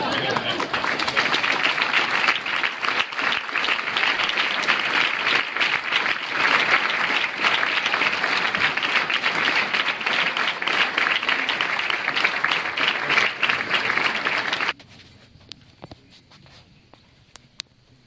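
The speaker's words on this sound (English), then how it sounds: "give yourselves a round of applause for being here today" A large audience at a political event claps loudly and continuously for about fifteen seconds in a dense, even roar, then the clapping cuts off, leaving a quiet room with a few faint sounds.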